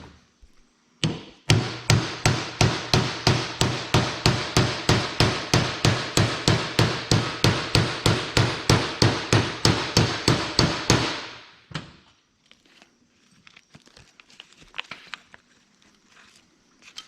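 Hammer tapping a part back onto a Polaris RZR gear reduction, a quick even run of about thirty sharp metallic blows over ten seconds, then scattered quiet clinks and handling noises.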